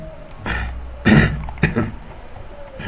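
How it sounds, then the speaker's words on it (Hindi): A slight cough with throat clearing, a few short rough bursts close to the mic over a faint background hum. "थोड़ा हल्की खांसी है"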